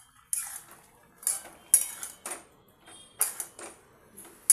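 Lentil fritters are dropped into a jute-stem curry in a cooking pan, with a series of sharp metallic clinks and scrapes from a utensil against the pan, close and spaced out.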